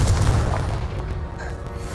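Confringo fire spell explosion in the Hogwarts Legacy video game, a single loud, deep boom that rumbles and fades over about two seconds.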